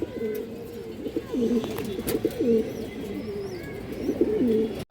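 A pair of old-line racing pigeons coos repeatedly in low, rolling phrases, close and steady, ending with a sharp knock.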